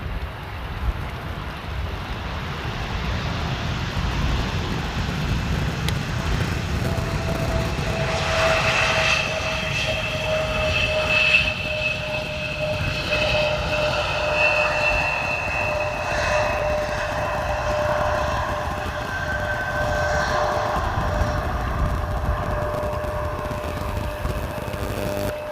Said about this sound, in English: This is a KLM City Hopper landing just now.